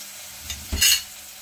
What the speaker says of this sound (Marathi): 1-2 मिनिटासाठी आपण टोमॅटो शिजवून घेऊया झाकण न ठेवता।